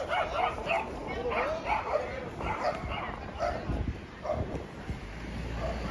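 Dogs barking and yipping along a beachfront avenue by Praia Central in Balneário Camboriú, with repeated short barks and whimpers mixed with nearby talk and outdoor street noise.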